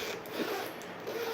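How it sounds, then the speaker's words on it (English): Zipper on the pouch of an alto saxophone case being pulled open in one steady, fairly quiet drag with a few small catches, heard alone and close. "The zipper was a little messed up there, but I fixed it."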